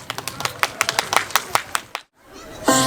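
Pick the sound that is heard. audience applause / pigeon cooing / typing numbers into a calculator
audience applause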